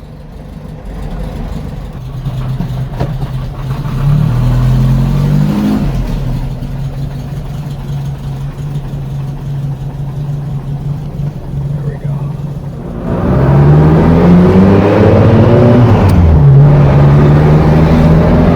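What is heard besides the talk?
car engine with loud aftermarket muffler accelerating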